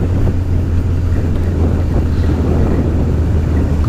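Steady wind buffeting a microphone on a motorcycle ridden in gusty conditions behind a truck, a constant low roar with rumble and no clear gaps throughout.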